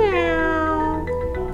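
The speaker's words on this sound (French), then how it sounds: "Oh, chat." A cat gives one long, drawn-out meow, loud and close, its pitch sliding down and then holding before it fades.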